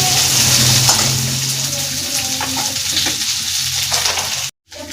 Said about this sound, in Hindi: लौंग, काली मिर्च, लहसुन और प्याज। इनको थोड़ा थोड़ा फ्राई कर लेंगे।